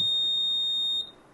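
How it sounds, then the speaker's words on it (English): A steady, high-pitched electronic buzzer on a body temperature detector sounds loudly and continuously for about four seconds, then cuts off abruptly near the end. "The buzzer will beep for 4 seconds."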